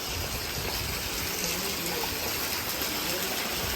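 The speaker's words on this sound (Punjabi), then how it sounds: "ਫੁੱਲ ਭਾਰੀ ਮੀਂਹ ਪੈ ਰਿਹਾ ਦੇਖੋ ਗਲੀਆਂ ਦੇ ਪਾਣੀ ਸਾਫ਼ ਨਹੀਂ ਹੋ ਰਿਹਾ" Rainwater rushes through a flooded village lane during heavy morning rain, a steady loud gushing wash that holds constant for the whole clip.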